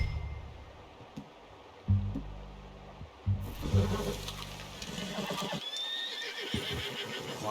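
A horse whinnies in the Red Dead Redemption 2 video game, with heavy stamping hooves thudding in bursts against a quiet outdoor ambience, the neigh rising high near the end.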